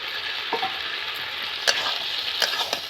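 Ground spices, turmeric, chili, cumin and chopped tomato frying in a pan, a soft steady sizzle with a few sharp scrapes of a spatula as the mixture is stirred.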